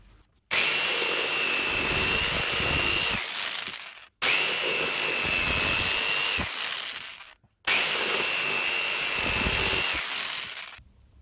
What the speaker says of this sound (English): I'll just roughly take the bulk of the material away with the jigsaw before we use the belt sander.